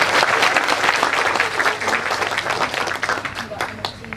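An audience at a Kenduri Cinta gathering breaks into loud, dense applause, many hands clapping continuously, gradually thinning toward the end, with voices mixed in.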